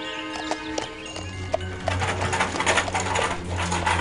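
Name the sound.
horse hooves clip-clop from video game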